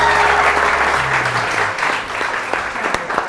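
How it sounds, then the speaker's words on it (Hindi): A studio audience on a TV morning show applauds Nahid Ansari as she arrives, a dense, loud, steady wash of clapping that thins toward the end with a few sharper claps. "नाहिद अंसारी के लिए बहुत सारी तालियां जी।"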